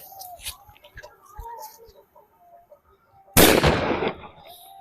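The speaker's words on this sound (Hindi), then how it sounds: "और भाई मिनी बुलेट काफी ज्यादा साउंड करने वाला है यार, और ये कॉक ब्रांड का ये पटाखा है।" A Cock brand Mini Bullet firecracker goes off during Diwali fireworks testing: after quiet rustling and faint voices, one sudden loud, sharp blast erupts close by and decays into a crackling rumble.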